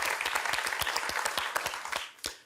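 A quiz show studio audience applauds a contestant, a dense burst of clapping at moderate distance that thins out toward the end, with a few louder claps standing out.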